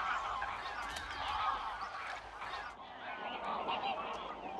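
Wintering greylag geese in the Doñana marshes of the Guadalquivir, a dense flock honking and cackling continuously at moderate distance, many overlapping calls forming a steady clamor.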